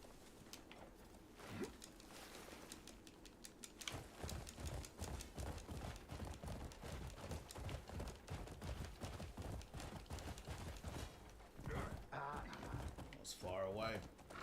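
Horse hooves clip-clop steadily on the ground in the video game Crimson Desert, a fast even gait with some louder effects mixed in and a voice talking over it.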